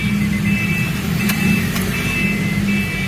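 A Honda Mobilio car engine running at idle, a steady close hum with a low rumble and faint higher whine, continuous and unchanging.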